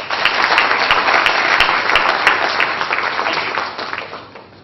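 A conference audience at a leadership workshop applauds to welcome a speaker, loud, dense clapping from many hands that holds steady and then tapers off near the end.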